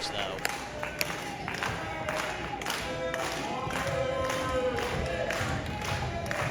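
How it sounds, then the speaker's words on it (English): A wrestling crowd at a women's match cheers and claps steadily, with scattered whoops and shouts, a busy, continuous roar of an arena audience, while a commentator speaks faintly beneath it. "So crowd partially rallying behind Emmy Camacho."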